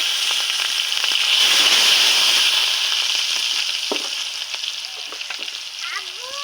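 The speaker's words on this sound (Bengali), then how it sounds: "এখন এখানে আমি পেঁয়াজগুলো দিয়ে পেঁয়াজটা ভাজে নিব।" Sliced onions hit hot oil in a pan at a village kitchen, left over from frying fish, bursting into a loud, dense sizzle that slowly settles into steady crackling, with a faint clink near the end.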